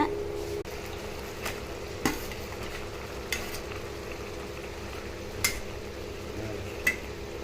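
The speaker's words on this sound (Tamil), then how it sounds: "இப்போ நம்ம கிரேவி கொதிச்சிட்ருக்கு நம்ம அந்த சதையை அதில் போட்டுடலாங்க" Boiling drumstick gravy with the scooped drumstick flesh being added and stirred in a pot, giving a continuous close bubbling sizzle marked by a few sharp utensil knocks against the vessel.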